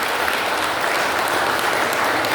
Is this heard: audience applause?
yes